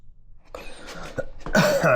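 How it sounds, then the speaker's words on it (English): A person coughs and clears their throat a few times at close range, the last bursts louder and rougher. "Coughing."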